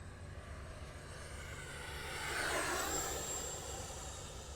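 An Avios Viper 64 6S electric ducted fan RC jet whooshes past with a steady turbine-like whine that swells to a peak mid-pass and then eases off, heard outdoors at a moderate distance.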